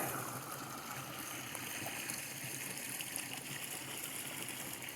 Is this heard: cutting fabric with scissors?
no